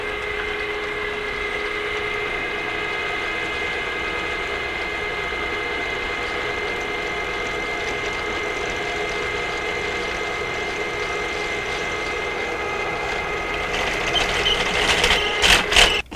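A power drill bores through metal with a Darex-sharpened bit and no pilot hole, giving a steady whine that holds throughout and grows louder and rougher near the end.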